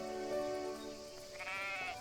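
Sheep bleat several times in the farming video game Everdream Valley, their wavering calls overlapping closely and loudly with no talk over them.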